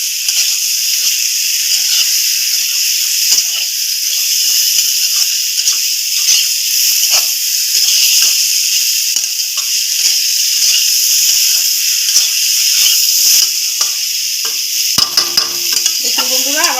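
Fried eggs are stirred into a thick egg curry in a pan. A loud, steady hissing sizzle continues throughout, broken by soft repeated scraping strokes and a few sharper knocks near the end.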